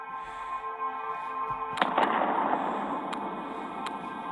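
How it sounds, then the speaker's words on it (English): In an Earth simulation video game, an asteroid impact sets off a sudden loud blast that rumbles on, with a few sharp cracks following, over a steady synthetic hum. "I'm gonna hit in a little asteroid"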